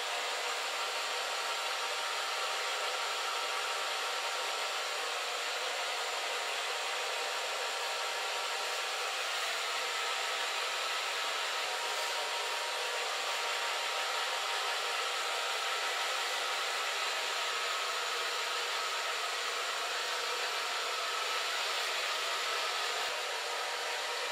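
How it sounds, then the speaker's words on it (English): A blow dryer runs continuously with a steady, loud airy whir, unbroken for the whole stretch and with no voices. "And with the blow dryer on a soft position,"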